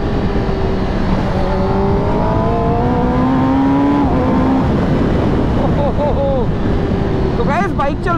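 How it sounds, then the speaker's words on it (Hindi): A heavy motorcycle with a quickshifter runs loud and close under steady wind rush, its engine note rising through gears in clipped steps, with quick rapid shifts near the end and a rider talking over it. "तो गाइस बाइक चल रही है अच्छी,"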